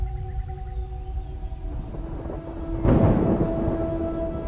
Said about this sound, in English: And a storm is on the way.